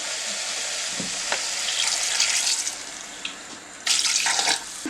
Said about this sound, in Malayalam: 2 കപ്പൊക്കെ വെള്ളം ഒഴിച്ചിട്ടുണ്ട്